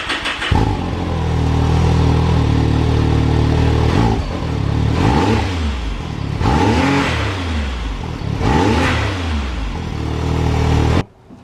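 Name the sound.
side-by-side stock exhaust revving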